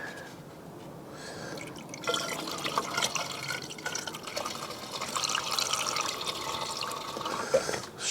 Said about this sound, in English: let's get some coolant in